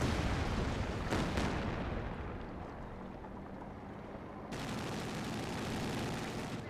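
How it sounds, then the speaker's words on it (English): Katyusha rocket artillery fires in Company of Heroes 2, a dense roaring barrage of launches and blasts that rumbles continuously, then swells again into a fresh salvo partway through. "Katusha opening fire"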